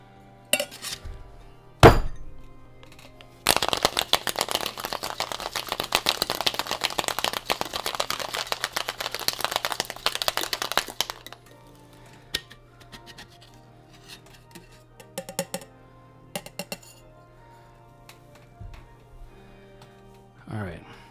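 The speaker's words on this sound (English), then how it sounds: "so we've shaken it without ice. We'll do the same thing again with ice." Ice cubes rattle hard inside a metal cocktail shaker for several seconds, a dense rhythmic clatter, followed by softer clinks and scraping as it settles.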